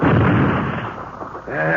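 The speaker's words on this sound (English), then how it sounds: "That explosion seemed to come from underground." A loud, booming explosion effect from an old-time jungle mystery radio drama erupts at the start and rumbles away, and a voice follows near the end.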